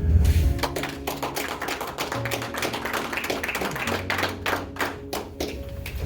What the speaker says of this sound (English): You guys are clapping, but this is ours.